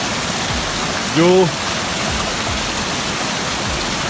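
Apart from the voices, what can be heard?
waterfalls along a mountain trail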